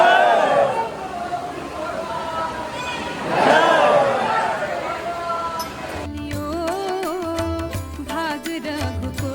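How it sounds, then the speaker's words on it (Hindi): A dense crowd of pilgrims at the Ayodhya Ram temple forms a murmuring, busy background, with voices talking and chanting over it and music entering partway through. "दबा के भीड़ है।"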